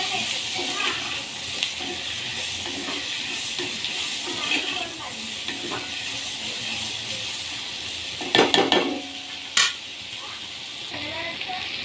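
Green chillies, onion and tomato frying in a pan with a low continuous sizzle and hiss, broken by a few sharp clanks of a utensil against the pan near the end, with occasional speech nearby.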